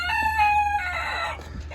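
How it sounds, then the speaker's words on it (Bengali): A Silver Sebright, a small bantam chicken breed from England, crows once close by, a bright harmonic call lasting over a second before trailing off into quiet background hum. "এটা একটা ছোটো জাতের মুরগি ইংল্যান্ডের ব্রিড সিলভার সেব্রাইট"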